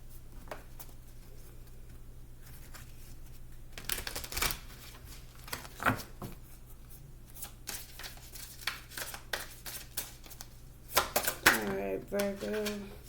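Playing cards are shuffled in several quick riffling bursts with small clicks and taps between them, close up, with brief speech near the end.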